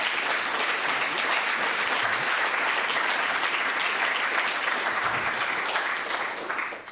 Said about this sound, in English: I suggest a round of applause for the panelists.